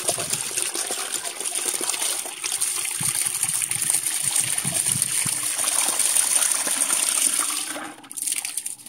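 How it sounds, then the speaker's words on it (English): A SongYi/Kedsum 880GPH submersible pump in eco mode sprays water at full spray level, splashing continuously nearby, a steady hissing gush with trickling and dribbling sounds, no talking. "there's the eco pump at full spray level"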